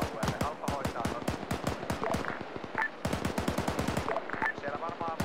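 Rapid machine gun bursts at a military exercise, loud close rattling volleys with brief gaps, while radio-style voices talk over the firing.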